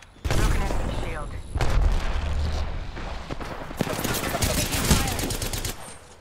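Rapid automatic gunfire and heavy impacts in the Apex Legends video game, dense loud bursts filling most of the stretch with a brief lull midway, under occasional voice chatter.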